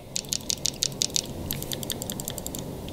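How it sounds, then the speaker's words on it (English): A Planet Eclipse Etha 2 paintball gun's solenoid clacking in extreme cold: a quick run of about six sharp, close mechanical clicks, then a string of fainter clicks over a steady background hiss, with no talking. "So if you freeze your Etha, solenoid still clacks."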